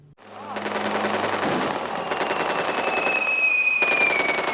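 Rapid automatic gunfire rattles through an Army basic training field exercise, a loud, dense, sustained burst of overlapping shots with a high whine running through it.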